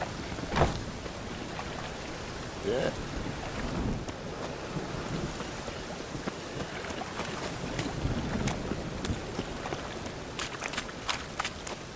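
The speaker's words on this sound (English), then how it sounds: "Rain again. Damn mages." Steady rain falling in the open world of the video game Witcher 3 Wild Hunt, a continuous hiss of drops with scattered louder spatters and light wind.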